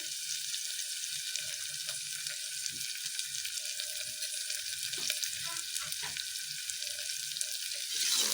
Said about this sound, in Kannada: ಉಪ್ಪು ಹಾಕಿ ಚೆನ್ನಾಗಿ ಕಲಿಸ್ಕೊಳ್ಳಿ